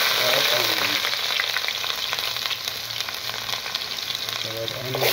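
Red onion sautéing in a pan, a dense, loud, continuous sizzle close up with a low hum beneath and no talk.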